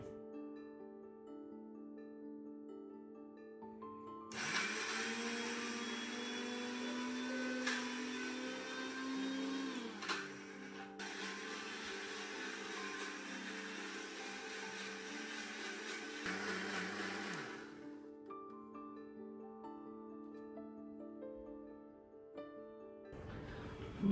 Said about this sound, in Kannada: ಈಗ ಇದನ್ನ ಗ್ರೈಂಡ್ ಮಾಡೋಣ